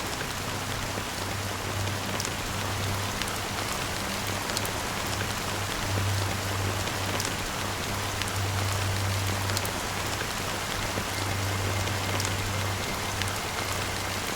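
Steady rain patters on surfaces in Honkai: Star Rail, a continuous even hiss of drops with a low hum underneath, with no voices.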